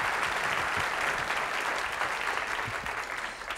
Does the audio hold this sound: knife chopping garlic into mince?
no